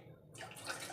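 Liquid milk poured into a pot for two cups of tea, a steady splashing, gurgling pour that starts after a brief quiet moment and continues close and moderately loud to the end.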